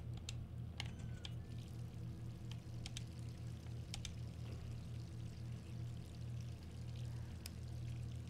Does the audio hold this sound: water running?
yes